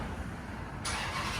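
A Chrysler 300C with a 5.7 HEMI V8 and Flowmaster Super 10 exhaust rumbles with a steady, deep drone that swells suddenly partway through.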